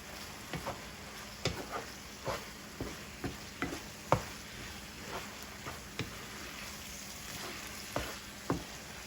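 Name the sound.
stirring ground beef stroganoff in a frying pan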